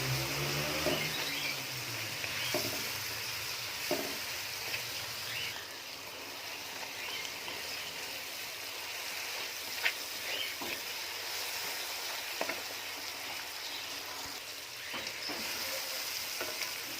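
Onion, green chilli and other ingredients fry and get stirred in a pan for a Kachnar chicken dish, a continuous soft sizzle broken by occasional scraping clicks from the spoon.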